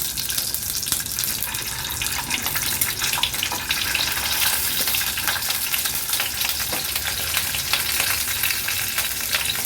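Stuffed tomatoes frying in a little oil in a pan over a low gas flame, a steady soft sizzle with faint crackles running evenly throughout, close by and with no talking.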